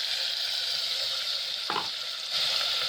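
Onion masala frying in very hot oil for a village-style chicken curry: a steady, bright sizzle hisses throughout, cut once by a quick scrape of stirring and then swelling slightly louder.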